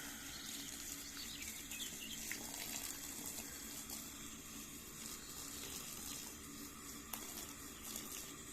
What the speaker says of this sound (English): That's the first water into the crown.